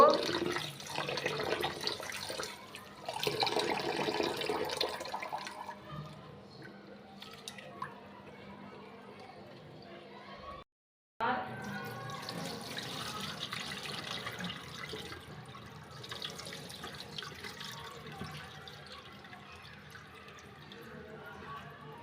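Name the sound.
water running while washing broken rice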